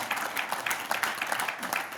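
Many people in an audience clap at once, producing a continuous crackling wash of handclaps with slight swells, heard close and fairly loud without any clear speech on top.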